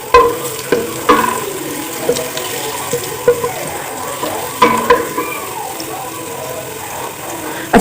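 Onions browning in a pan on low heat for chicken kachnar are stirred with repeated scraping strokes over a soft, continuous sizzle, heard up close.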